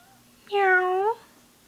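A single cat meow, close and clear, rising then falling over about half a second against a quiet room, with no voices over it.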